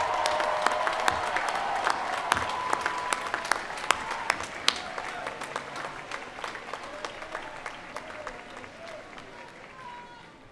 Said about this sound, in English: give a round of applause to those who helped you on this journey